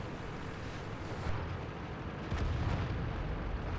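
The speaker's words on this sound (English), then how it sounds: "And now he's just going to shoot and run for it." Tank cannon fire in a World of Tanks match on the Mines map, playing from a VK 28.01, under continuous engine rumble and battle noise, with a couple of heavy low bursts standing out partway through.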